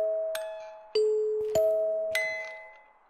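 Cursed music box in the Phasmophobia ghost-hunting game, playing a slow, tinkling chime melody of single ringing notes, each struck clearly and decaying, fairly quiet with no talking over it.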